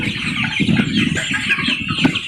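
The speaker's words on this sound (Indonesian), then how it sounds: "di sekitar saya itu ada peternakan petelur ayam Arab" Chickens at a nearby egg-laying poultry farm cluck steadily and close by, a dense overlapping flock chatter with a few louder calls standing out.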